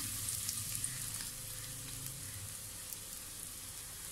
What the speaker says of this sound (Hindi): मैंने थोड़ी आंच कर दी है ताकि ऑयल गर्म हो जाए। और इसके साथ ही ये प्याज हम इसमें शामिल कर देंगे